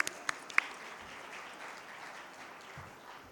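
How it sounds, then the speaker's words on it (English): An audience applauds at the FICCI Frames 2024 business event's inaugural session, a dense, steady patter of many clapping hands at moderate distance, with a few sharp, close claps near the start and no talking. "Round of applause, guys, everybody."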